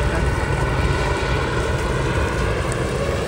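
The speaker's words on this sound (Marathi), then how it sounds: "सतत असे हेलिकॉप्टर तिथे" A helicopter flies over Santa Monica beach, its engine and rotors making a constant dense roar that stays loud and unbroken for the whole few seconds, with no voices.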